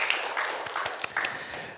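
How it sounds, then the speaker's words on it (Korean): A church congregation bursts into applause, a dense, steady clatter of many hands clapping together for under two seconds, close and fairly loud. "하나님께 영광의 박수를 드리겠습니다"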